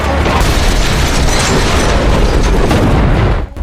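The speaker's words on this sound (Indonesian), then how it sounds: "mereka pun melompat keluar dari truk hingga truk itu menabrak sesuatu dan meledak" A truck crashes and explodes in an action film, a loud, sustained roaring blast with rumbling low end and crackling debris that fills the scene before cutting off abruptly near the end.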